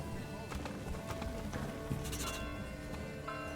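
Horse hooves clop in the medieval village of Manor Lords, a faint irregular patter heard among sheep and goat bleats and other farm ambience. The sound stays quiet and is partly mixed under a voice.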